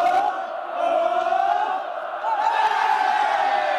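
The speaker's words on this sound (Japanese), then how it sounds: "スタンドからも大きな声援です" A stadium crowd roars and chants in a sustained, loud swell of cheering at a high school soccer final in Saitama between Seibudai and Shohei, steady throughout with slight dips and rises.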